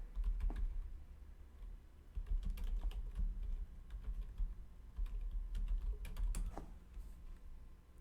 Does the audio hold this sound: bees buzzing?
no